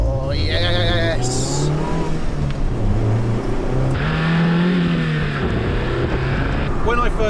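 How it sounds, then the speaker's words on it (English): A Lotus Elise Heritage Type 79 sports car on a road doing a handbrake turn, its engine revving loudly and rising and falling in pitch while tires squeal briefly, with people exclaiming over it. "We can handbrake it though."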